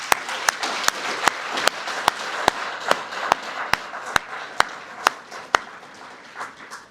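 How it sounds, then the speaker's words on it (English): An audience applauds at the Cochise College paramedic graduation ceremony, a steady wash of clapping broken by sharp, evenly spaced claps that stand out near and loud, then thinning toward the end. "Let's give them one more round of applause"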